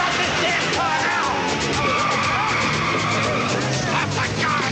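A car speeds and skids during a police chase, its tires squealing loudly over the engine roar, with shouting voices mixed in.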